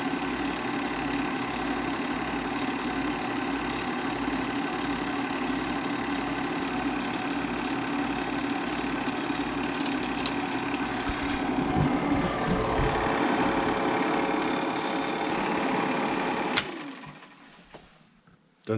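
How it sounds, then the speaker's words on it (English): An old film projector runs with a steady, close mechanical whir and rapid clattering flutter, growing somewhat louder before winding down and stopping near the end. "That sound of the projector stopping, that's when everybody woke up."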